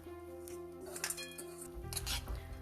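Boondi tipped into sticky jaggery syrup in a pan brings a few metallic clinks and scrapes of utensil on pan, with a soft rustle of the pearls dropping in, fairly quiet.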